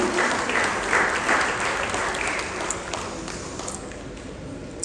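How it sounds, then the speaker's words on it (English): An audience at an awards event in India claps steadily for about five seconds, a dense wash of applause that eases slightly toward the end, with faint voices beneath. "a big round of applause for Sudha Raghuraman."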